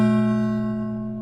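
An Apple II computer beep routine sounding like a gong: a single sustained metallic tone with clear harmonics that slowly fades over a little more than a second, with nothing else heard.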